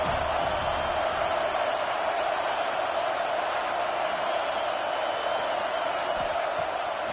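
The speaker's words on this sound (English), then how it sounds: "The Tide crowd roaring noise down onto Saban Field on third down." Alabama Crimson Tide home crowd roaring on third down against LSU at a college football stadium, a dense, sustained wash of distant crowd noise holding at a steady level throughout.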